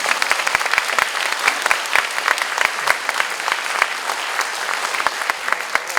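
Audience applause fills a hall at a Catholic book concert as Seoul mayor Oh Se-hoon is welcomed, dense and steady clapping with sharp individual claps standing out, continuing throughout without speech.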